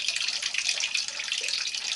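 Water rushing through the inlet valve of a Maytag Bravo XL washer, a steady, even hiss of flowing water that holds constant throughout without pauses or voices.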